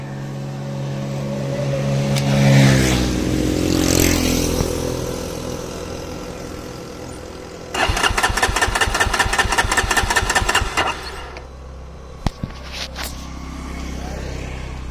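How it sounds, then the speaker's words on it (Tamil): A Jawa Perak motorcycle engine cranks and fires up, revving unevenly, then settles into a loud rapid idle before cutting off, with a few clicks afterward. "நான் திரும்பி வண்டி ஸ்டார்ட் பண்ணி காட்டுறேன்"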